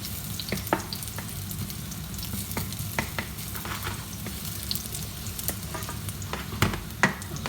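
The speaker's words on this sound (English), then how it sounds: "We're going to start by getting in the garlic and frying that just for 30 seconds" Garlic sizzling and frying in hot oil in a wok, with a steady crackle and occasional scrapes and clanks of a utensil stirring in the pan.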